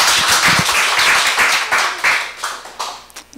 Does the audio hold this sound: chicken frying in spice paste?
no